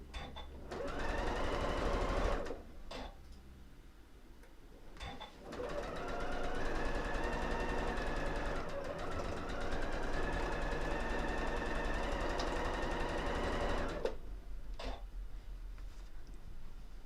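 A sewing machine stitches fabric in long continuous runs, its steady motor whir broken by two brief pauses early on, then running unbroken for several seconds before stopping, fairly close and loud with no talk.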